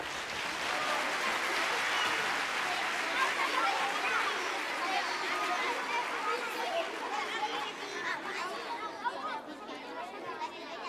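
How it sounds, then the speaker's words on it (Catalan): An audience applauds third-grade children at a school Christmas concert: steady, dense clapping mixed with crowd chatter and murmuring fills the hall, slowly thinning toward the end. "Aplaudim els nens i nenes de tercer!"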